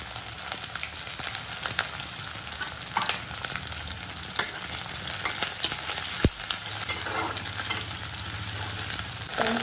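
Carrots, French beans, peas, onion and chilli fry in hot oil in a home kitchen, a constant close crackling sizzle with occasional stirring scrapes, no voices.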